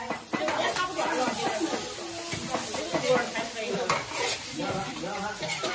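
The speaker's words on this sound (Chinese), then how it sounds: "到阿青姐炒个海鲜，炒海蛎" Oysters stir-fry in a wok with a lively sizzle and scraping stirs, close by, while people talk over the cooking.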